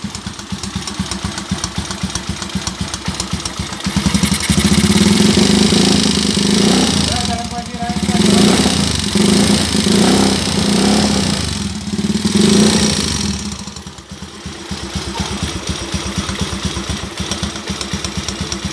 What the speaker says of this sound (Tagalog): May problema tong makina ni ka bro eh.